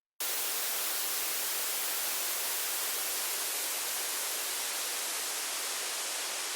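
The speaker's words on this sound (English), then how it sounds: "I can show you what just the white noise sounds like." Steady, full-band hiss of white noise, constant and loud, starting abruptly and holding unchanged with nothing else present.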